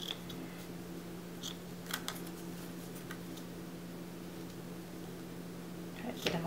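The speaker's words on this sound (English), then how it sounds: "I'm going to take my ribbon scissors, go ahead and trim the edges" Quiet, crisp snips of ribbon scissors trimming ribbon edges, a few spaced clicks over a low steady hum, with a final pair of snips at the end.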